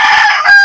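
A rooster crows once, loud and close, a short bright call with no other sounds around it.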